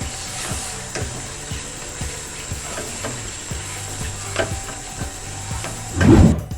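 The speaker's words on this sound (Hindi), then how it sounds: "और इसमें मैं डालूँगी पिसा हुआ सूखा धनिया 1 चम्मच। इसको हम अच्छी तरह से भूनेंगे।" Turmeric and ground dry coriander sizzle in a pan for chicken biryani while a spoon stirs in a steady rhythm of scrapes about twice a second, ending in a louder burst of frying.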